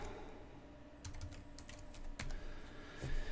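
Several quick keystrokes on a computer keyboard while a password is entered on an IBM Lenovo Storwize storage setup screen, in brief clustered bursts over a low background hum.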